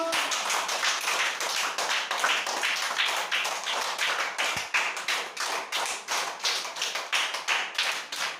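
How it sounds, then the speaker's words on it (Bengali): Primary school children clapping hands together in a classroom game, quick rhythmic claps repeating steadily and loudly the whole time without voices. "চলো হাততালি শুরু করো"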